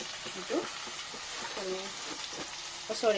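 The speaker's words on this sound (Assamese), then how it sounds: "এইটো মছলাখিনি ল' ফ্লেমত ভাজি ল'ম বৰ্তমান" Ginger garlic paste and spices frying on a low flame, a soft steady sizzle with light stirring, fairly quiet and alone.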